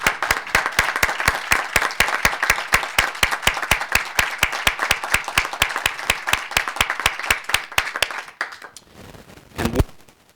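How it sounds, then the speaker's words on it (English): Applause at a county council meeting for the immediate past council president: steady rhythmic clapping that runs for about eight seconds, then breaks up and fades, with a brief burst of noise near the end. "Let's have another round of applause for our immediate past president"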